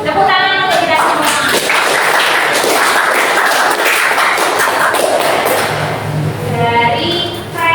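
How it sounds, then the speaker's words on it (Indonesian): A classroom group claps together after student presentations, a loud, fairly brief burst of mixed hand claps and taps, with voices audible at the start and end. "Tepuk tangan untuk kita semua."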